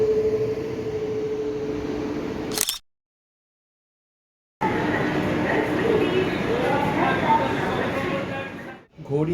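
The Darjeeling Mail, hauled by a WAP-7 electric locomotive, starts to roll with a low steady rumble and rattle. A short silent gap precedes a fuller, louder rolling sound, with voices faintly present.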